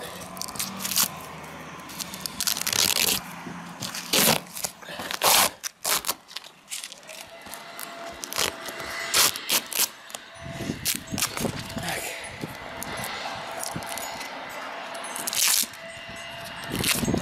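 Strong Gorilla tape being peeled off a surface, ripping and crackling in loud, uneven bursts with brief pauses between pulls, all close up.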